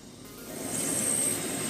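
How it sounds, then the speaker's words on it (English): A helicopter touching down near a mosquito breeding area for a larvae inspection, its rotor and engine a steady, close, broadband roar with a thin high whine on top. "the chopper touches down so the inspector can take a sample with a handheld dipper"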